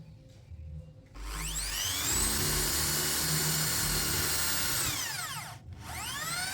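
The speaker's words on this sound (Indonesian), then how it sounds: "kita akan coba aja apakah bor Dolis ini enak digunakan untuk ngebor besi atau tidak" A Doliz BA652 electric drill spins up and bores into iron with a loud, steady whining roar that rises and holds, then winds down briefly before starting again, close and alone.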